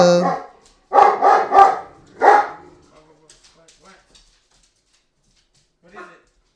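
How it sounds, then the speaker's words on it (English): Lobo the dog lets out a quick run of four loud, close barks, then a few faint yips and a soft single bark near the end, with a voice heard briefly at the start. "Why is he barking?"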